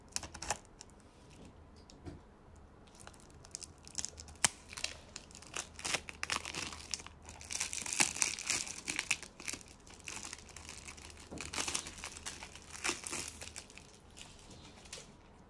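Plastic shrink wrap is peeled off a WWE 2K22 PS5 game case, with close crinkling and crackling in irregular bursts, loudest midway, no voices.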